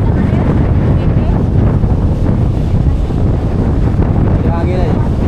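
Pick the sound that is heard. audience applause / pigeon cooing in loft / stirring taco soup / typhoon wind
typhoon wind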